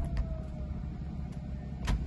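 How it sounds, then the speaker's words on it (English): Electric folding hardtop of a BMW 430d M Sport convertible closing, a steady low motor hum with faint whirring and a couple of soft mechanical clicks, close by. "I will start of course by getting the roof to close all the way"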